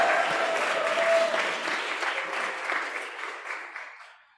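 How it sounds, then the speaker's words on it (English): An audience claps together at an evening celebration for a community organization, a dense, steady round of applause that carries on strongly and then gradually fades away at the end. "Thank you for clapping."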